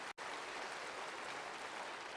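A church congregation applauds in praise, a continuous dense wash of clapping after a brief cut at the start, steady and fairly full.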